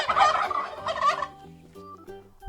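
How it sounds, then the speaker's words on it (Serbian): A farm turkey gobbles in a loud, rapid rattling burst, followed by a second gobble and then softer trailing clucks and calls, heard alone and close. "A kako se ćurka čuje? Hajde da poslušamo."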